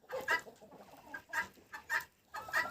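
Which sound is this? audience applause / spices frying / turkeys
turkeys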